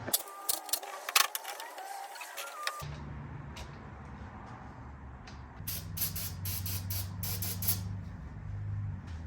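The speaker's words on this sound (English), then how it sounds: "spray some ether in there, see if I can get it to start that way" Short bursts of hissing ether spray into an engine to start it, several quick sharp puffs at first and more a few seconds later, over a low mechanical hum.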